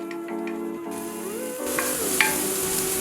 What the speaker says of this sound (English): You want to saute this mixture for about 2 to 3 minutes or until the onion becomes translucent.